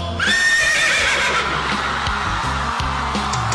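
A voice imitates a loud horse whinny, a shrill wavering neigh that sweeps down and trails off into breathy snorting.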